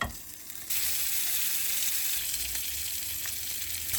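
Meat edges sizzle steadily in a hot pan while a spatula presses them down, a loud continuous frying hiss that swells after a brief quieter moment, with no talking.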